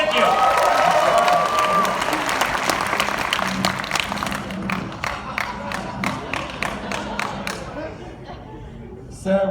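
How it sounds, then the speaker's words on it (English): Audience applause and cheering at a live comedy puppet show at Knott's Scary Farm, a dense crowd clapping that fades gradually, with voices and shouts mixed in. "Let's give them some applause."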